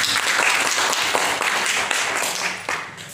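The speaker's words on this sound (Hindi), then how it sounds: "जोरदार ताली होना चाहिए" Sustained applause from an audience at a Sunday gathering, dense steady clapping filling the whole stretch without a break.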